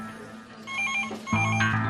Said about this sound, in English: Red phone.